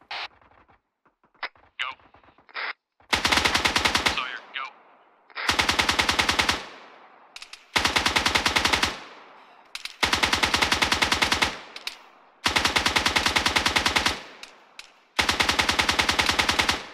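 Machine gun fire in a video game, loud sustained bursts about a second long repeating every couple of seconds, preceded by a few scattered single shots.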